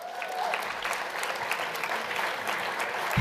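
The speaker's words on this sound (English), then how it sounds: "Round of applause." Audience applause at a sold-out International Women's Day breakfast in Greater Boston, a dense, steady wash of many hands clapping throughout, fairly close and loud, with no talk over it.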